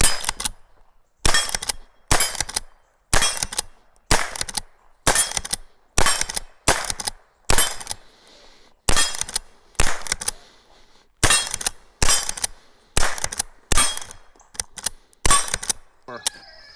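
A lever action rifle fires round after round at cans, sharp loud cracks in a steady, quick series of about seventeen shots, each with a clang and short ring, outdoors with no talk.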